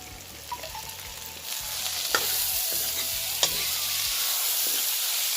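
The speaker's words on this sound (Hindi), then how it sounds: "बारी आ जाती है मटर डालने की।" Steady loud sizzling of peas frying in a pan, with occasional scrapes and clinks of stirring, no voices.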